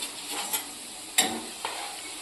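Potato french fries frying in hot oil on medium-to-high heat, with a faint, even background sizzle and a few soft bursts of bubbling.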